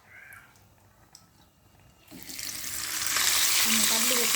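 Crab dropped into hot oil: a quiet start, then the sizzle swells and grows loud and steady, a dense close frying hiss with no talking.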